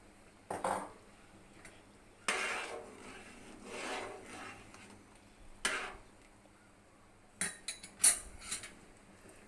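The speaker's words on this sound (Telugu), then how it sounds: "ఇప్పుడు వచ్చేసి నేను రవ్వ వేసేస్తున్నాను." Rice semolina tipped into a pot of boiling water and stirred with a spoon while making rice rava upma, giving scattered scraping and clinking bursts against the pot with quiet gaps between them and no voices.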